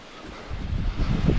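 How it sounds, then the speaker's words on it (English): Small mountain stream in Northern Lapland flowing over little waterfalls, a steady broadband rush of water close to the microphone that swells louder halfway through, with some wind buffeting and no talk. "little waterfalls, or what do you even call them? Streams."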